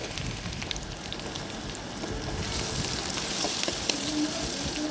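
Chopped garlic goes into hot oil in a pan with already chopped onion, giving a steady, dense sizzle and crackle that grows a little louder midway and stays constant without talk.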